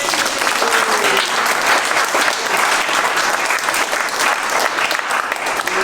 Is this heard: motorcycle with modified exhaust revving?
no